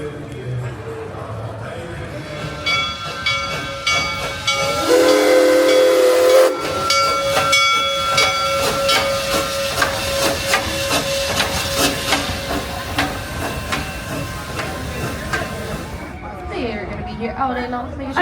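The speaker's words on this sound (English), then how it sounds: "the previous clip just there of the train pulling in" A steam train pulls into a station at Busch Gardens Tampa Bay, its loud hissing steam and a sustained whistle blast standing out over a dense rumble of rolling wheels, with people talking nearby throughout.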